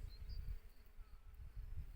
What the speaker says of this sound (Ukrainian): бджоли шукають тут меду